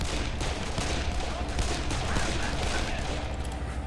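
Dense, sustained gunfire from the video game Darkest of Days: overlapping shots and bursts pile into a loud, continuous volley that barely lets up across the whole stretch.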